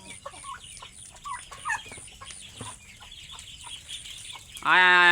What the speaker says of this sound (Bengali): আর এইটা হচ্ছে আমার এই খামারের প্রথম লটের বাচ্চা, এই মুরগির বাচ্চাগুলো